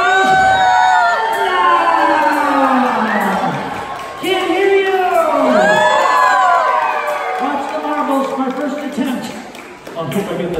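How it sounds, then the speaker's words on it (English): At a pumpkin farm in Clarence, NY, a crowd with many children cheers, whoops and shouts loudly and close by, with voices rising and falling over several seconds. "if you enjoyed this, clap, cheer, go nuts"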